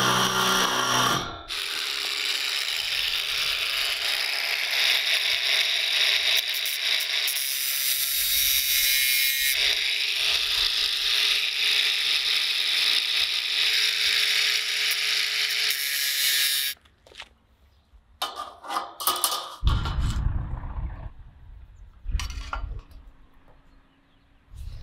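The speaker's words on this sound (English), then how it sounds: "Now I'm gonna drill here. I'm gonna start with a smaller drill bit" A power drill with a small bit whirs loudly and continuously drilling a pilot hole for a long stretch, then stops, followed by scattered clunks and shorter bursts of handling noise.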